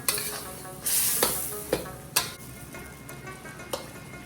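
Steady frying sizzle from a pan of chicken for chicken karahi, with a few sharp scrapes and clacks as the chicken is stirred.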